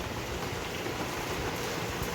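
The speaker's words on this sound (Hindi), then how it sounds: "फिर से बहुत तेज़ बारिश हो रही है" Heavy rain pours down in a steady, dense roar of drops on surfaces, loud and close throughout with no voices.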